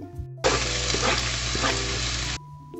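Garlic and finely chopped onion hit a hot pan and fry with a loud, steady sizzle that starts suddenly and holds for about two seconds before cutting off, with a low hum underneath and no talking.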